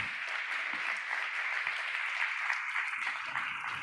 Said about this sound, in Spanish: Puedes darle un aplauso al Señor.